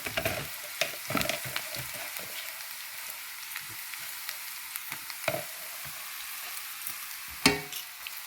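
Thin cassava chips sizzling and frying in hot oil, a steady close crackle with scattered pops and stirring clatters, no voices.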